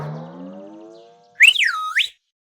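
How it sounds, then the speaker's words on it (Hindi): An animated comic plays a whistle sound effect: a bright, sliding whistle that swoops up and down, loud and close, after a lower tonal hum fades out. "तभी चाचा चौधरी की सीटी की आवाज सुनकर"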